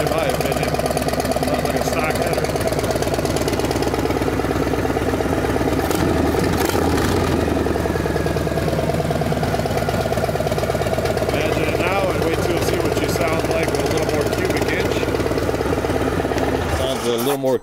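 A Harley-Davidson M8 motorcycle engine with an S&S 124 cubic inch kit and new exhaust running steadily at a loud, throbbing idle for the whole stretch, close up and rough, with speech faintly underneath.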